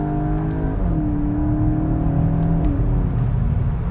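A VW Golf 8 GTI with a 245 hp 2.0-litre engine and DSG gearbox accelerates hard from a launch control start, its engine note rising steadily through the revs and briefly dropping at a gear change. The sound is continuous and loud, with no talking.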